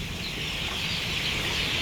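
About 1,200 chickens fill a poultry farm with a dense, steady chorus of clucking and squawking that never breaks, close and moderately loud throughout.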